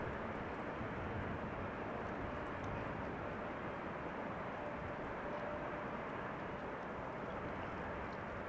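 Transavia airliner on approach to Amsterdam Schiphol, a faint, steady distant engine rumble and roar holding evenly throughout, with no voices.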